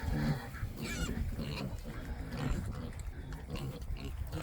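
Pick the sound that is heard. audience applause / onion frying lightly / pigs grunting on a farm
pigs grunting on a farm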